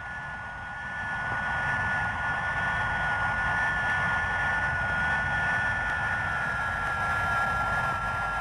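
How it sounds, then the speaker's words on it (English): A Handley Page HP 115 research aircraft, a low-speed research plane with a supersonic wing shape, flies with a steady, even engine roar and a whining tone, holding constant throughout. "And now the Handley Page 115, the research aircraft with the improbable shape, a supersonic shape for low-speed research."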